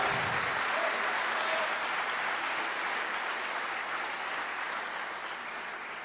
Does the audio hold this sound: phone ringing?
no